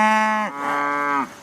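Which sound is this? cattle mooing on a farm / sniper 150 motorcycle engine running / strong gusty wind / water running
cattle mooing on a farm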